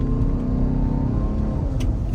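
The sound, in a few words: 2020 Ford Explorer Limited Hybrid accelerating, V6 engine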